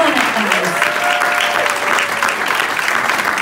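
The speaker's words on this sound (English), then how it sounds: "Keep the applause going." An audience applauds steadily at an awards ceremony, with dense continuous clapping close by and a faint voice briefly audible underneath.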